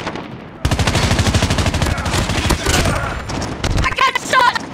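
Rapid automatic gunfire from a Call of Duty Mobile team deathmatch on the Nuketown map rattles in a loud continuous burst, ending in a few separate shots and electronic game sounds.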